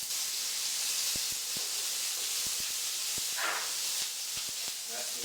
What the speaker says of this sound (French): quand on entend lui chanter comme ça veut dire que la poêle est prête et on peut commencer à cuire